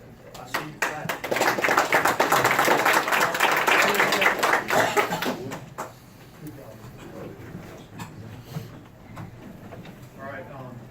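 Clapping from people at a county commissioners' meeting, a burst of many hands that swells, holds for several seconds, then fades into quieter room sound with some talk.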